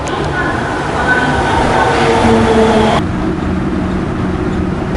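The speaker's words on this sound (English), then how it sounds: "Metro station, subway station is completely empty. Here comes the train though." Loud rumbling and whooshing of a subway train pulling into an empty Tokyo metro station, with a faint high squeal and steady roar filling the space.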